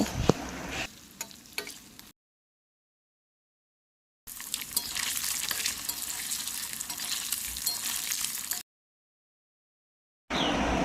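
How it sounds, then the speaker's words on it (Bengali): Fish coated in turmeric sizzles loudly in hot mustard oil, a dense crackling hiss heard in bursts broken by abrupt silent gaps. "হলুদ মাখানো মাছগুলো দিয়ে দিচ্ছি এবার মাছগুলো আমি ভালোভাবে ভেজে নেব"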